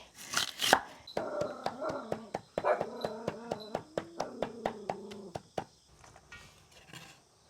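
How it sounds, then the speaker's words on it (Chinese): A knife chops lotus root into small cubes on a cutting board, about twenty crisp, evenly spaced knocks at close range, while a dog whimpers and barks in the background. "我来切点藕丁儿进去"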